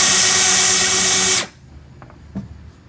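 A power drill, run in reverse to close a box door, whines loudly and steadily, then cuts off abruptly; a sharp thud of the door slamming shut follows in the quieter tail.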